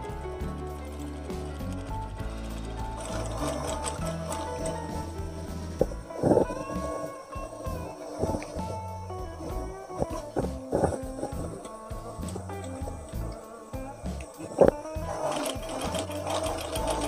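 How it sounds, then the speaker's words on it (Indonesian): Sewing machine stitching a mini suit jacket collar onto its lining, a steady continuous mechanical whir with rhythmic needle clatter running the whole time, close and fairly loud, with a few sharper knocks along the way. "Langsung kita jahit ke lapisannya."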